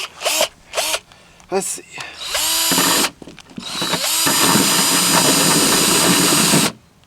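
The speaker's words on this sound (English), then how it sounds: "I have this Dremel type thing. So we're gonna try this first." A Dremel-type rotary tool grinds a Maxton Design rear valance on a Ford Focus ST, starting in short, loud whining bursts and then settling into one long sustained grind before cutting off, with a brief spoken voice between bursts.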